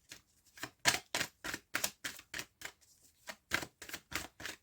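Tarot cards being handled in a quick, uneven series of about a dozen crisp papery slaps and riffles, each short and close, with brief gaps between them and no voice.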